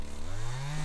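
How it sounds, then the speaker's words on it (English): A custom chainsaw rig cutting through large blocks of clear pond ice, a loud steady buzzing whine close by, with the engine pitch sliding upward as it bites. "A custom chainsaw rig is used to cut the blocks"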